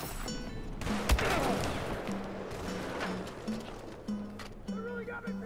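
Gunfire in the Battlefield 4 video game, a burst of shots near the start followed by scattered rounds, mixed with game noise and people talking over it.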